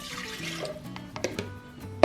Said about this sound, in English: we're going to add a half a cup of cold water